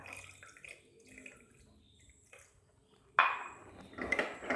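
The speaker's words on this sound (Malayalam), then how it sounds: "ഒരു 1/2 ഗ്ലാസ് വെള്ളം കൂടി ചേർത്ത് കൊടുക്കുക." Water pours into a cooker while making liver fry, with a sudden splashy rush midway, after a few soft kitchen clinks and quiet moments.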